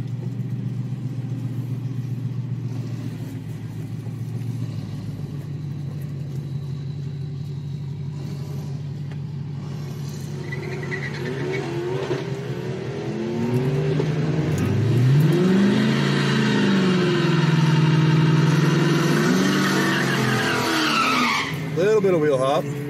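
An Infiniti Q45 engine idling at a drag strip, then revving and accelerating hard with rising pitch sweeps and brief tire chirp, loud and close with someone talking over it.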